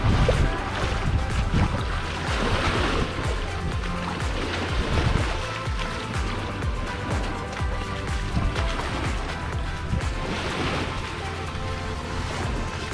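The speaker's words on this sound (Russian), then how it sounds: "сегодня с утра только море было спокойно, сейчас немножечко волны" Small sea waves wash steadily onto a sandy Marmaris beach in Turkey, where the water was calm earlier in the day. The surf makes a continuous close rush and swish, with no talking.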